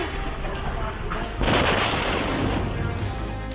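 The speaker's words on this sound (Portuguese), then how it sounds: "Explosão na zona portuária de Beirute." News footage of the explosion at Beirut's port: a sudden loud, broad roaring blast after a rumbling lead-in, followed by sustained crackling, debris-like noise.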